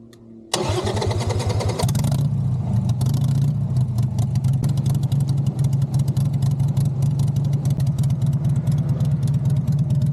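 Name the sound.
Harley Davidson motorcycle engine running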